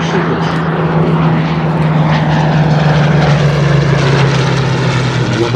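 Hawker Hurricane at a 2018 duo flying display, its propeller engine a loud, steady droning roar with a strong low hum that holds evenly throughout without a break.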